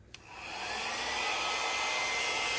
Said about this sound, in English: I hold the blow dryer upside down. It makes the pedal and the paint just move much more nicely.